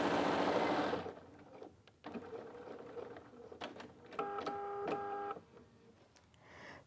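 A Quilter's Edition sewing machine stitches through layers of quilting fabric, its needle running in a loud burst, pausing, then resuming in short runs with steady mechanical whirring and rhythmic clatter, heard alone up close.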